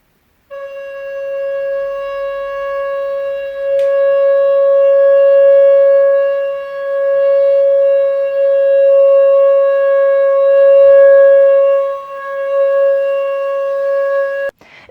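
A recorder (Blockflöte) holds one long, steady, pure tone alone for about fourteen seconds, with a slight swell and dip in loudness and no other sounds around it.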